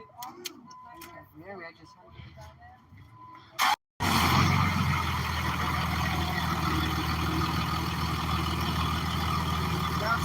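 A loud truck engine bursts to life after a few seconds of talk, then keeps running with a heavy, steady roar close by.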